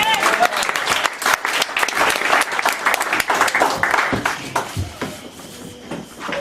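A church congregation applauds loudly and steadily throughout, a dense continuous clatter of many hands clapping with a few cheers mixed in, close and filling the space.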